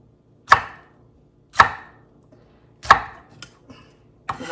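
A big jalapeno is chopped on a cutting board with a knife: four or five sharp, close knocks at uneven intervals, loud against an otherwise quiet room and no talking.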